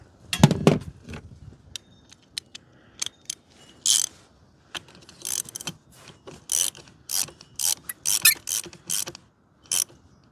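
A ratchet wrench tightens a car battery terminal during a battery replacement, giving a run of close, crisp clicking bursts in short uneven spurts with brief pauses between them and no talking.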